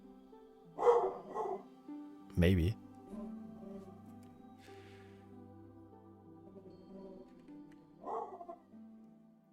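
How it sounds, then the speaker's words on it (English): A dog barks in a few loud, drawn-out barks that stretch toward a howl, set against a steady background hum, with someone talking before and after. "I don't think I've heard him bark like that before."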